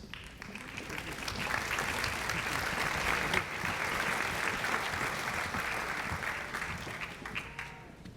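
A hall audience at a Lions Club scholarship night breaks into steady, moderately distant applause, many hands clapping in a continuous wash that swells slightly midway and tapers near the end.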